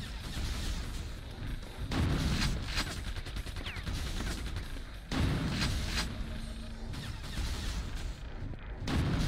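Heavy gunfire in Quake II: repeated booming shots and thudding blasts in bursts, loud and close, with rapid mechanical rattling between the larger hits.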